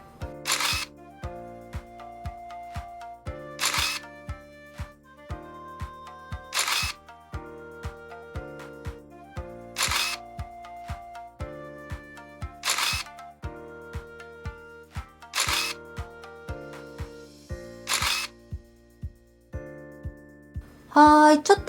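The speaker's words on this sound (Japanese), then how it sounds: "じゃあね、写真撮りますね。" A smartphone camera shutter clicks repeatedly, roughly every three seconds, while photographing pressed box sushi, each crisp click standing out over soft background music, with a faster burst of clicks at the end.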